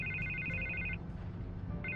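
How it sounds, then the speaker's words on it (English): Phone ringing in the Telltale Batman video game, an electronic warbling ring that sounds twice in short bursts with a pause between, over a low background hum. "I can't get the phone to stop ringing."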